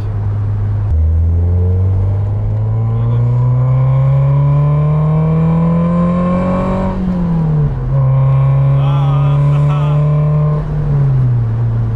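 An MG TF 135 80th anniversary roadster's four-cylinder engine pulls up through the revs in long rising sweeps, with a shift dip near seven seconds before climbing again, loud and close from inside the car, no talk.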